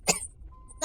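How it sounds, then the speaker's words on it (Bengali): A single short, harsh cough bursts out close by, followed by a brief faint tone and then a voice starting to speak. "কাশিও হয়েছে।"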